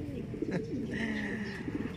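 Racing pigeons coo softly and continuously nearby, low burbling calls layered over a steady background hum.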